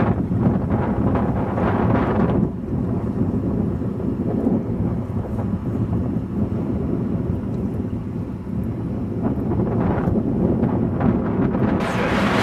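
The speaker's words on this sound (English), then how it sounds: "it's still very windy outside" Strong wind roars steadily outdoors across a snowy glacier landscape, a loud continuous buffeting rush with heavy low rumble and gusts that swell near the start and again near the end, no voices.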